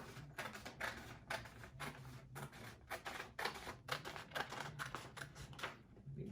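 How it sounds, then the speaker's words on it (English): Scissors snip through folded paper in a quick series of crisp, papery cuts, close and quiet, with short pauses between strokes. "Now you'll take your scissors and cutting along those folds"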